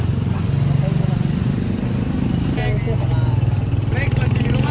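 A motorcycle engine runs steadily at idle close by, a continuous low throbbing rumble throughout, with brief clatter and other noises over it, during a behind-the-scenes music shoot.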